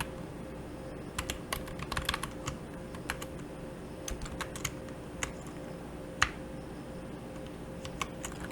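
Fast, irregular typing on a computer keyboard while working in Power BI, crisp close key clicks in short bursts over a faint steady background hum.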